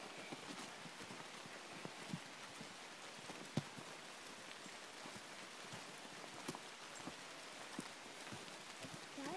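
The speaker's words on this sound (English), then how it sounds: "it's just starting to rain right now" Light rain beginning to fall along a forest hiking trail in Georgia on the way to a waterfall, faint scattered patters and drips over a quiet outdoor background, with occasional footsteps.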